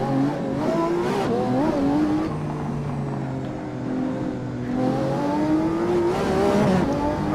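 Lamborghini Aventador SV with its V12 engine pulls hard on the Nordschleife, a loud, continuous engine roar rising in pitch through the gears, with brief dips between shifts before climbing again, close and steady throughout.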